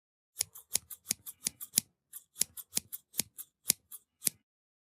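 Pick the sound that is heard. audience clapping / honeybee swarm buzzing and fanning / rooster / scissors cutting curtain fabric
scissors cutting curtain fabric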